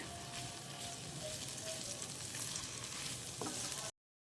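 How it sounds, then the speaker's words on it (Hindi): Yellow, red and green bell peppers stir-fried in a pan for chicken Manchurian fried rice, giving a steady, close, even sizzle with no break and faint scraping near the end. "वेजिस को भी हम अच्छी तरह से मिक्स कर लेंगे"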